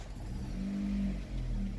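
A Chevrolet Lacetti engine with an ABS fault starts, idles and revs up in a low, steady hum that rises and dips, close by, with no talking.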